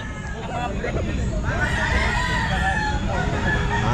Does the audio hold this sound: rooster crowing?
yes